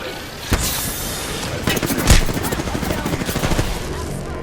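Gunfire in the battle royale game Apex Legends, with a few sharp shots and a heavy thump, then a rattling stream of rapid fire, moderately loud against busy background noise.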